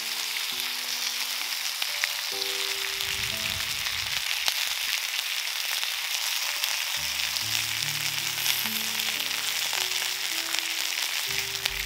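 Ribeye steak with vegetables and mushrooms fries over high heat outdoors, giving a steady loud sizzle throughout, with occasional tonal scraping or clinking layered over the continuous hiss.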